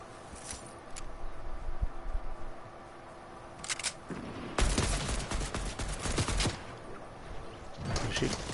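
Rapid bursts of gunfire in the video game Fortnite, loud and dense, several volleys separated by brief gaps, heard close up with a voice talking at times.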